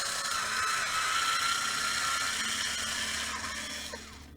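A rechargeable electric wine opener whirs steadily as its motor runs in reverse to release a cork, a close continuous buzzing that fades and stops near the end.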